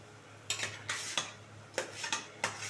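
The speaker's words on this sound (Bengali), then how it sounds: "এবারে মাছগুলো দিয়ে দেবো" Pabda fish dropped one by one into a pan of mustard gravy, several soft splashing plops with scraping clatter at irregular intervals over a low simmering background, no talking.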